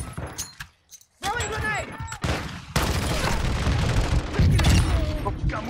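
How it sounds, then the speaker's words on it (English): Shotgun blasts in a first-person shooter video game, several loud booming shots with chaotic gunfire and clattering effects, sharp bursts separated by brief lulls, then dense continuous noise. "this shotgun is awesome"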